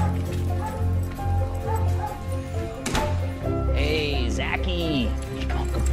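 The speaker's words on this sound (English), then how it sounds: "Hey, this dog knows how to love." A dog barks and yips in short bursts, then lets out high whimpering whines near the end, close by, over steady low background hum and light talk.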